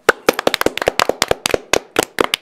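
Sharp hand claps in a television studio, a quick irregular burst of about twenty close, crisp claps with no voices.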